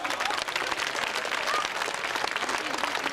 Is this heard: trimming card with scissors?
no